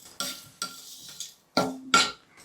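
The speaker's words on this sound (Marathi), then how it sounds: "चला, आता जायपत्री आणि मायपत्री एकत्र तळूयात" Mace and nutmeg flower spices are fried and stirred in a pan, giving five or six short scraping, rustling strokes with faint sizzling, each stroke separate, close and moderately loud.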